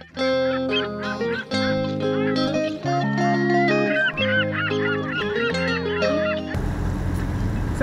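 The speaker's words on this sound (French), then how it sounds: "les mouettes" Loud honking seagull calls overlap in a noisy flock on a sailboat on the Atlantic, nasal cries repeating close by, before a burst of wind or rushing noise at the end.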